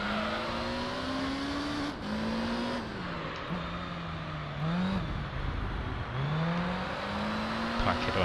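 Race car engines roar in Gran Turismo 3 during a Special Stage Route 11 endurance race against a Zonda. The engine note climbs repeatedly and drops with each gear shift, loud and continuous throughout.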